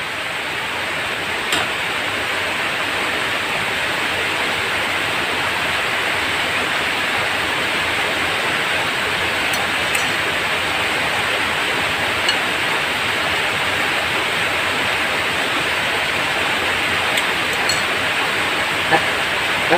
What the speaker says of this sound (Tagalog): Medyo hindi pa po umuupa yung baha namin doon sa may ilog.